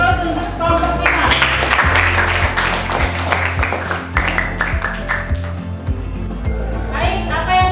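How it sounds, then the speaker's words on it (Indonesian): A classroom of students claps for group five after their presentation, a loud, close, steady round of applause that carries on for several seconds before tapering off. "beri aplaus untuk kelompok 5"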